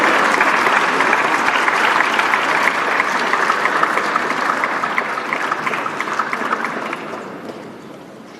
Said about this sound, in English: A big round of applause to Mr.